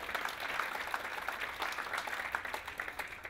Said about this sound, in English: Big round of applause for Douglas.